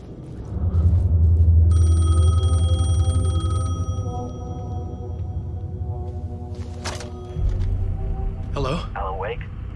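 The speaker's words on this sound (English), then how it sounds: "phone was ringing" Telephone ringing in Alan Wake II, a bright tonal ring over low rumbling ambience, followed by a few sharp clicks and handling noises and a rising synthetic sweep.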